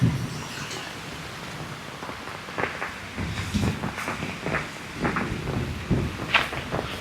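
Rain falls steadily through a forest of tall trees beside a small waterfall in Ernakulam district, Kerala, a soft continuous hiss broken by scattered nearby drips and crunching steps.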